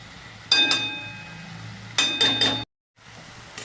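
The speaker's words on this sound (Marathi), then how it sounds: "तर बघा अशी याला मस्त थोडीशी हलवून द्यायची, अशी चांगली खालवर करायची" Methi bhaji of fenugreek leaves and dal is turned in a pan with a spatula. There are two bursts of metallic clinks and scraping against a low background, then a brief dropout.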